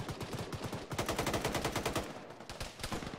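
Rapid automatic gunfire in the Arma military video game, with quick rhythmic bursts of shots that pause briefly and resume, loud and close with no talk.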